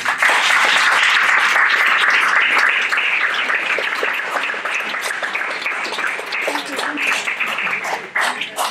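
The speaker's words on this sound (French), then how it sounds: "est-ce qu'on peut les applaudir?" An indoor audience at a neighbourhood contract review meeting breaks into applause, loud and dense at first, then thinning into scattered claps near the end.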